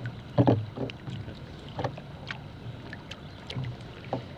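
Paddles dip into the water as a boat is rowed, giving several soft splashing strokes at an uneven rhythm over light wind noise, with no talk.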